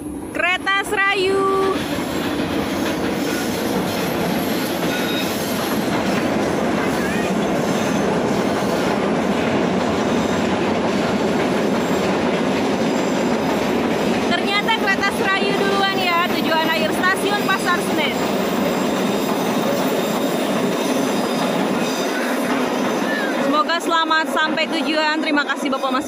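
Serayu passenger train on an Indonesian railway moving along with a continuous loud rumble and clickety-clack of wheels on rails, with repeated high wheel squeals rising in bursts over roughly 26 seconds.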